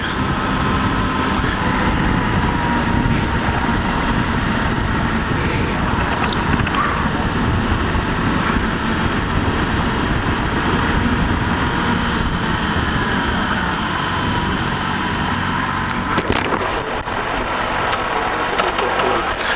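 A motorcycle ride on a road in Cardiff, UK, with a constant engine drone and heavy wind rush throughout, loud and close, with a slight shift near the end.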